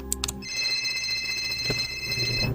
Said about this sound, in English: your thought spree comes to an end with ringing of your phone